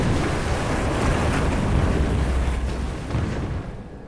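Naval battle explosions in Hearts of Iron 4 as a Soviet fleet attacks Turkish ships: a continuous, loud, dense rumbling roar of blasts that stays heavy throughout and fades slightly at the end.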